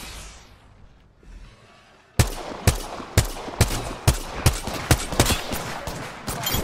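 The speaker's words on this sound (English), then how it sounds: "I am taking fire." Gunfire in the video game Apex Legends: after a quiet, muffled start, a string of sharp, loud single shots cracks out at a fairly regular rhythm, about two per second, close and punchy.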